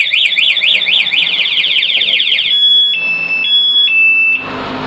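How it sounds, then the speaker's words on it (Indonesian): Scustar motorcycle alarm on a Yamaha NMAX blaring loudly up close, a rapid warbling siren followed by several shorter steady beeps and then a burst of noise. "alarm tetap akan berbunyi keras dan motor tidak bisa dihidupkan sama sekali seperti ini."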